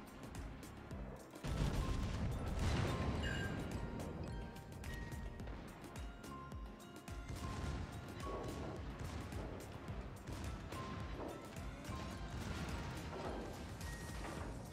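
Heavy naval gunfire and shell impacts from a Tier VII British battleship, HMS Rooke, in the naval combat game World of Warships, with dense, continuous booms and crashes throughout and a stronger burst near the start.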